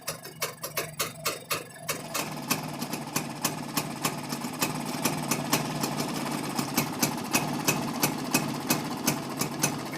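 A Rajdoot 175 motorcycle engine idles after carburetor tuning, giving a close, steady ticking chug that starts slightly uneven for the first couple of seconds, then settles into a fast, regular beat.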